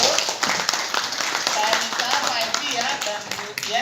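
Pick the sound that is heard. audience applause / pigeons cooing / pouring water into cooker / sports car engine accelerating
audience applause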